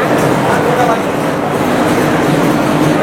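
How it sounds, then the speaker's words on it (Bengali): A Canning local train at Sealdah station's south section rumbles steadily and loudly with constant rail noise and crowd murmur on the busy suburban line. "আজকে আমাদের ক্যানিং লোকাল দিয়েছে 19 নম্বর প্ল্যাটফর্ম থেকে, শিয়ালদা সাউথ লাইন থেকে"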